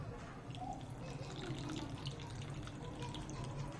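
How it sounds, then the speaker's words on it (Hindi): Water trickles quietly as it is poured into a metal oil lamp in a Bishnoi village, a faint continuous liquid sound heard close by with a low background rumble. "अभी डालते हैं इसमें पानी"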